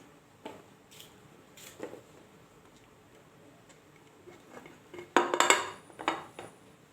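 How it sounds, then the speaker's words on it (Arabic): Cucumbers and hot peppers are packed into a glass jar, with scattered clinks, taps and knocks against glass that cluster into a louder clattering burst near the end. "البرطمان اهوت، عبيت فيه الخيار وحطيت فيه قرنين فلفل"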